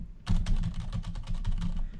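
Rapid typing on a computer keyboard, a dense run of close, fairly loud key clicks in an uneven rhythm lasting about two seconds, with no one talking.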